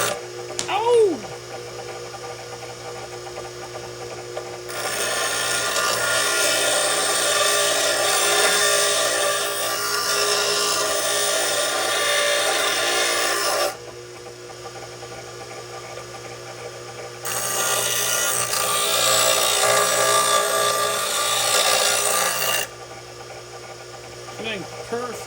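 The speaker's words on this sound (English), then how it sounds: "Let's clean her up on the grinder." A bench grinder cleaning up a steel stiffener plate for a gearbox swap into a Jeep XJ: two long, loud stretches of steady abrasive grinding, separated by a brief pause, over a low background hum, with a voice briefly at the start.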